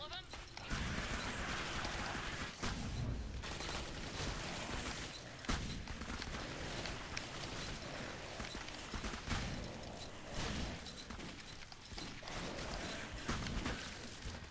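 Shotgun fire from a G360 in the video game Clive Barker's Jericho, heavy blasts that come at intervals over a dense backdrop of combat noise, while a person talks over it.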